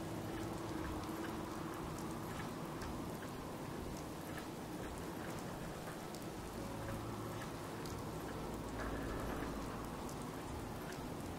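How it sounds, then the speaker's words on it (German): Steady rain falls in Fallout 4 during Nuka World, a constant hiss of drops pattering on surfaces that continues evenly throughout with no voices. "Hört der Regen vielleicht nochmal auf?"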